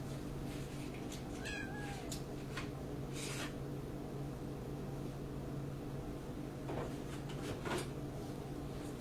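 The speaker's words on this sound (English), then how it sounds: "Meow." A cat meows a few times, short and fairly faint, amid quiet room noise with a couple of clicks and knocks.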